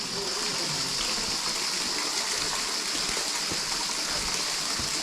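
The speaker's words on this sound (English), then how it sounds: "So here you can see the water is falling from the root over there." Water pours from tree roots at a root waterfall inside a cave garden in Meghalaya, a steady broadband rushing gush, constant and moderately loud, without speech.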